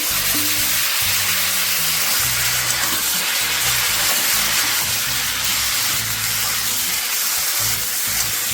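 Ridge gourd and potato pieces hit hot oil already used for frying fish, with black cumin, giving a loud, steady broadband sizzle close by that runs unbroken throughout, with no talking.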